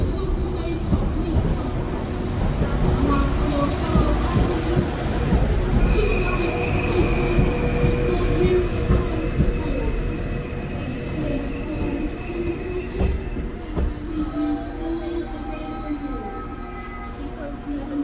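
A Transport for Wales Class 197 train pulls away from a platform with a heavy rumble and rattling wheels, steady tonal whines rising over it as the noise slowly thins out.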